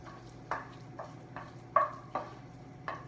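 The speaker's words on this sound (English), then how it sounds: "I will give it a stir" A spoon scrapes through golden caramelized onions in a pot for French onion soup, giving about half a dozen distinct, evenly spaced stirring strokes over a low steady background.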